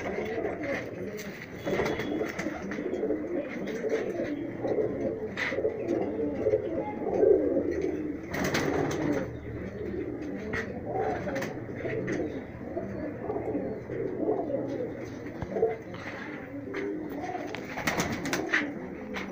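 High-flyer pigeons, including a golden pigeon, coo in low, soft, repeated calls throughout, with someone talking over them.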